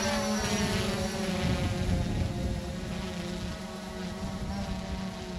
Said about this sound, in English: Easy there, drone.